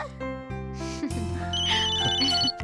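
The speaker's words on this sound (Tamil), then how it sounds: "யார் ஃபோன் பண்றது?" A phone ringtone chimes inside a home during a Tamil TV serial scene, a steady, bright melodic ring that enters partway through and carries on over soft background tones.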